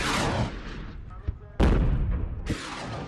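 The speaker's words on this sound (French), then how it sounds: "Les roquettes transpercent l'obscurité du ciel." Rocket and artillery fire at night in the battle of Fallujah, Iraq: heavy rumbling blasts and a sharp crack, with a loud boom near the middle and another surge near the end, continuous and booming throughout.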